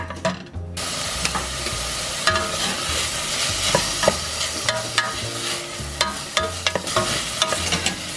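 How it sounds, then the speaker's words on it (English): Onion, garlic, olives and capers sizzle steadily in a hot pan for a puttanesca sauce, close and loud, while a spoon stirs and scrapes in repeated knocks against the pan. "Stir that around and let it saute."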